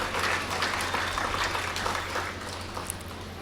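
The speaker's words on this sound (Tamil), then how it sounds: "நீங்கள் உரத்த கரகோஷத்தை நம் தாய்மொழிக்கு தாருங்கள்." An audience at a public literary talk gives a long, even round of applause, a continuous wash of many hands clapping at moderate volume over a low steady hum.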